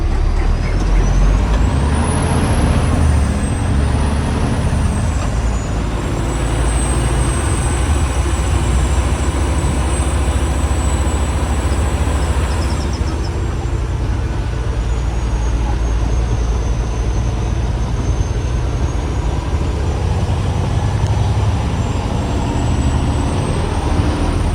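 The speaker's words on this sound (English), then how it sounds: "that was a nice Kenworth with that step deck" Heavy Kenworth truck hauling a step deck trailer rolls past in drizzly road traffic, a loud steady rumble with tire hiss and a faint air brake tone, sustained throughout with no talk.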